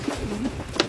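Pigeons in a breeding loft give a brief, close coo, a soft low throaty call lasting under a second.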